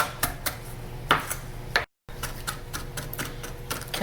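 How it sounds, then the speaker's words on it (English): A knife mincing garlic and fresh parsley on a board, rapid uneven taps and clicks close up, with a short gap of silence partway through. "I have a clove of garlic, some fresh parsley, and I'm just going to mince it finally"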